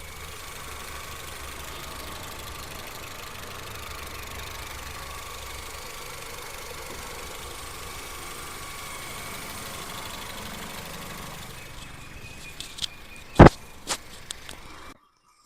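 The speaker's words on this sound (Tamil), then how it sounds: "இப்போ வண்டியோட இன்ஜின் நாய்ஸ் நான் உங்களுக்கு மைக்கு பக்கத்துல வச்சு எப்படி இருக்குன்றத காட்டுறேன்." A 2009 Honda Civic engine idles close to the microphone with a steady, even low rumble, ending in a few sharp knocks and clicks before cutting to silence.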